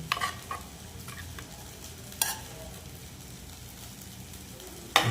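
A pan of thick mutton gravy bubbles and sizzles steadily up close at a rolling boil, with a few clinks and scrapes of stirring.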